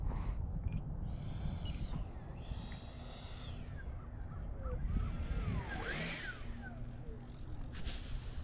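A 3D printed RC Mirage jet with a 70mm ducted fan whines with layered harmonic tones that rise, then sweep and bend near the end, over a constant airy rush.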